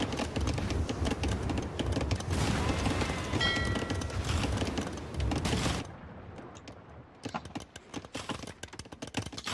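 Naval battle with fire ships in a strategy video game, a dense clatter of rapid impacts and attack clicks that suddenly thins out, then resumes as sparser repeated hits.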